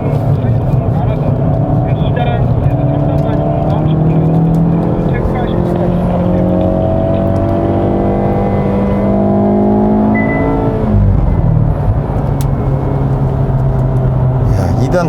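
A 2020 Hyundai Veloster N with dual-clutch transmission runs in first gear around 60 km/h, its engine droning steadily with rising and falling tones beneath someone talking throughout.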